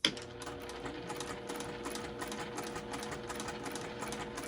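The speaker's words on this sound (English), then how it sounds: "I'm just going to stitch all the way around." A sewing machine runs steadily at a 1.9 stitch length, stitching around the edge of a petal star hoop wall hanging, with a fast, even mechanical chatter that is close and moderately quiet, without any speech.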